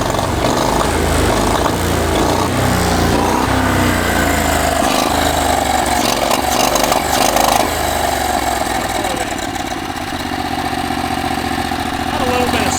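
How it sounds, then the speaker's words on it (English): Turbocharged lawn mower engine fitted in a VW Beetle revs and runs loud and near with a rough mechanical drone and a rising whoosh, while people talk over it. "Pull it back, you can hear the turbo."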